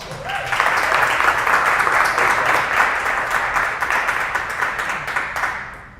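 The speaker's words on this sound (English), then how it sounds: "Let's give Matt a round of applause." Audience at an entrepreneur meetup breaks into applause, a full room of clapping that starts abruptly, stays loud and even for several seconds, then gradually thins out.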